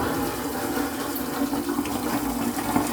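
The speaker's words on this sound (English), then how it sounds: "That was a long flush." A long toilet flush in a cruise ship suite bathroom, a steady loud rush of water that runs unbroken for several seconds, close to the listener.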